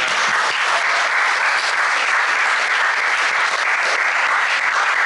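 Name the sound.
audience applause at a fundraiser dinner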